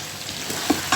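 Tomato paste being stirred into chunked vegetables in a hot pan for Arabic vegetable thareed, a brief close sizzle with scraping stir sounds, no talk.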